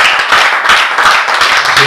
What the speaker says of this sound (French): qu'ils applaudissent le Seigneur